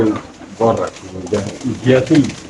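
White racer pigeons coo in short throaty bursts at a pigeon sale, close and fairly loud, mixed with people talking nearby.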